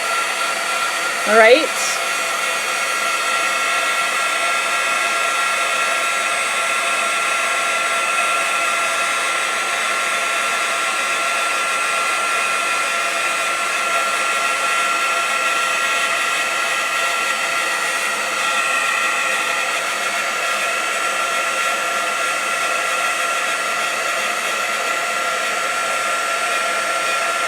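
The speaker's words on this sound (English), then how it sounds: "it's loud again, but just for a second while we heat this embossing powder" An embossing heat tool heats embossing powder with a loud, steady, close blowing whir that runs without a break, after a brief spoken word at the start.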